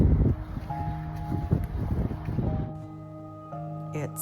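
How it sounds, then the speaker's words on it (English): Gusty wind sweeps across an open horse pasture and buffets the microphone in rough, roaring bursts that ease into a steadier hiss, with faint rustling behind it. "It's so windy today,"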